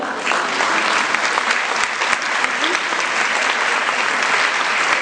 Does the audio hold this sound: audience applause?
yes